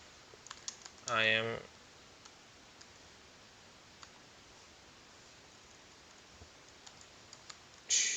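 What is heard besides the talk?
typing on a computer keyboard to write a blog comment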